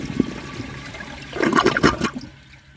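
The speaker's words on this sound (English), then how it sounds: "I'm going to flush that and see why it's missing this spot." A 1998 Eljer Savoy toilet flushes with a short, close, gurgling rush of water that swells for about a second and then drains away. No one speaks.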